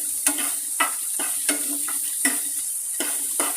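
Sweet corn masala being stirred and roasted in a pan, street style: a steady sizzle runs throughout, with sharp scraping stirs landing about every half to three-quarters of a second, close and clear, with no voices.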